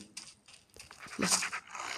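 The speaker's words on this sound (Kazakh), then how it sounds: "Жабай ит ғой." A wild dog in the Roblox video game pants in quick, breathy bursts with some rustling and scraping around it, fairly close and moderately loud.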